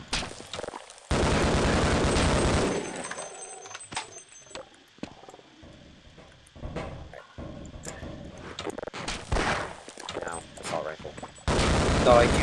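Gunfire from a weapon in the game Half-Life, with loud sustained bursts of shots at the start and end and scattered single shots and impacts in between, under occasional talk.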